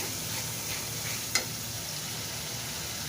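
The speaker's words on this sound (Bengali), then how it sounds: "মশলাটা কষানো হয়ে আসছে তেলে উঠে আসছে" An onion, garlic and ginger spice paste with green chillies fries in hot oil for a fish curry, giving a steady, moderate sizzle with one sharp clink of the stirring spoon partway through.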